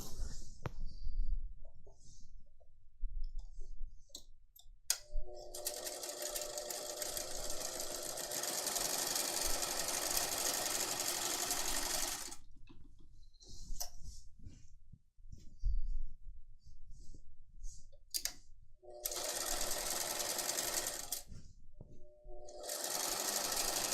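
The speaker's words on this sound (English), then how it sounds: "I'm going to stay stitch on both of these sections here." A sewing machine stay-stitches the neck and armhole edges of a top's back piece, running in two long steady bursts of rapid whirring stitches separated by pauses with small handling clicks.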